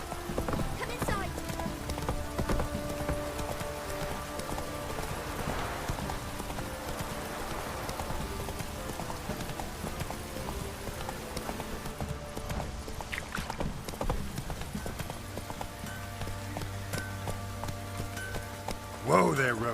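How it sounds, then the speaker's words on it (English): Horse hooves clip-clop steadily on the ground in the video game Witcher 3, a continuous close rhythm under ambient game sound, with voices speaking at times. "Whoa there, Roach"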